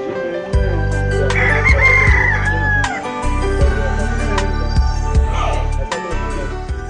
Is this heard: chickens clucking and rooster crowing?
yes